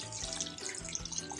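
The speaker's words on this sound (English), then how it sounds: "Let's add in hot water" Hot water pours into a cooking pot of yam, drumsticks and carrots for a mixed vegetable curry, a soft steady splashing stream at close range with no talking.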